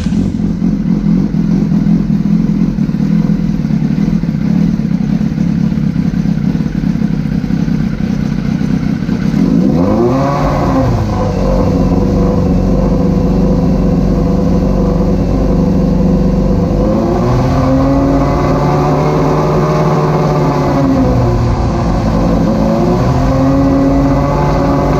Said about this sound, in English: So now we're gonna start the bike and see where it's charging at.